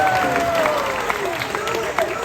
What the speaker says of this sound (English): I think she deserves a bit of a round of applause